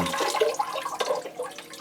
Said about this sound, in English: the procedure is to pour the water over the roots until they go green